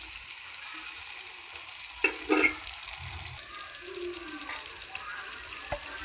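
Chopped tomatoes go into a pan of frying onions for a silver carp curry, with a soft steady sizzle, a brief louder splatter as the tomatoes land, and faint stirring scrapes afterward.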